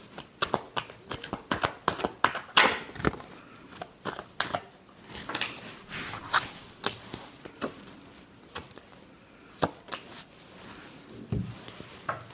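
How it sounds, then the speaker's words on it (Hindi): Tarot cards being shuffled by hand, a series of soft crisp riffles and taps in an uneven rhythm, close and fairly quiet, with no voice over them. "Last shuffle."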